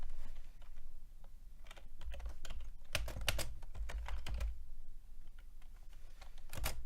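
Keystrokes on a computer keyboard as a chat message is typed during an online rapid chess game, an irregular run of close, crisp taps with a dense burst in the middle.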